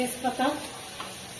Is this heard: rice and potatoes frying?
yes